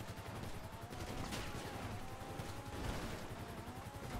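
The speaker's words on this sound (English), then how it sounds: "They're just shooting out one of the fucking gunners." Gunfire in Grand Theft Auto V: a steady rattle of rapid automatic shots at moderate distance, continuous and fairly dense, with no voices.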